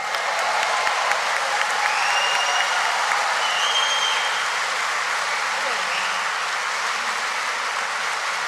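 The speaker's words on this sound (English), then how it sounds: "Could you please give a cheer for David Hayman?" A conference audience in Edinburgh's Usher Hall gives steady, continuous applause with scattered cheers, a dense even wash of clapping that holds from start to finish.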